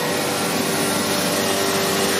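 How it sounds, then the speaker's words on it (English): A CNC machine's vacuum hold-down zone runs with a steady, loud broadband roar and a faint tonal whine, unbroken from start to finish. "we're gonna wanna activate our vacuum zone"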